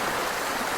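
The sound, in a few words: flowing water stream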